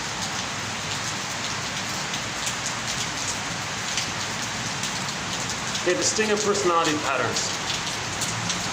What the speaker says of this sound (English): can you still hear me okay over the noise of the rain?